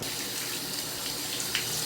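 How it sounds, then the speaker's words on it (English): Water runs steadily from a tap as a fish tank is filled, a short, soft, continuous splashing stream with no voices. "So now I just have to fill it up with water."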